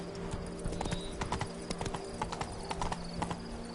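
The horse Roach gallops in The Witcher 3 video game, a fast run of hollow hoof clip-clops in an uneven rhythm over a faint background hum.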